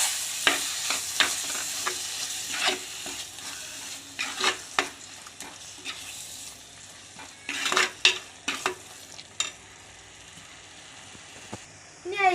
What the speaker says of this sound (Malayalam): അതിലേക്ക് തേങ്ങ അരച്ചിട്ട് കൊടുക്കാം. ഇത് ഇളക്കി കൊടുക്കാം.